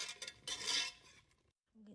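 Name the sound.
stirring butter into salted caramel in a pot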